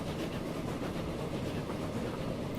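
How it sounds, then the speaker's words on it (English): A train passes on rails in the Transport Fever video game, giving a steady, continuous rumbling roar with no breaks and no speech. "I can hear another train."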